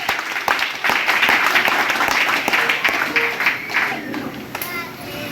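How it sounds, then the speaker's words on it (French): A church congregation claps and cheers together, dense applause with shouts and children's voices mixed in, loud and close, swelling then thinning toward the end. "Acclamez Jésus!"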